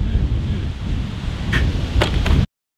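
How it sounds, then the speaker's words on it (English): A strong gust of wind sweeps across an open golf course during a par 3 round, a loud, broad rushing roar buffeting the microphone, with a couple of brief sharp knocks near the end before it cuts off. "Gust of wind, man."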